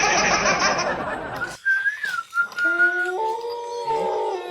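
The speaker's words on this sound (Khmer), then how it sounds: "ឆ្កែក៏លូកលូទៀតហើយ" A dog howling in a long, rising and falling wail with several drawn-out tones, heard after a burst of broadband noise, fairly close and alone.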